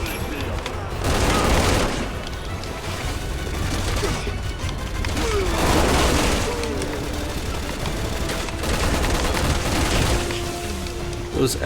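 Light machine gun fire in the Resident Evil 6 video game, sustained bursts of rapid gunshots swelling and easing in waves alongside game effects, loud and continuous across the scene.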